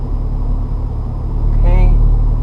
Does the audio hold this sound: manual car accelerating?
yes